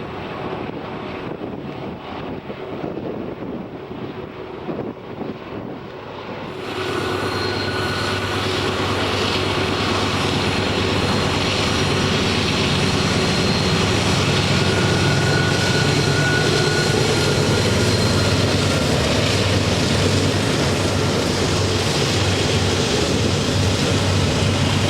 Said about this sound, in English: a long Burlington Northern Santa Fe container train moves under the signal bridge with 5 locomotives.